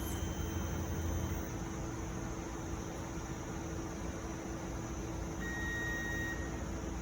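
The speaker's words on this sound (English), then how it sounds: "It calibrates for about maybe 3 minutes or so, and it beeps." A Kubtec X-ray cabinet beeps faintly in steady tones while calibrating, the thin electronic beeps sitting over a constant hum of fans and machine noise.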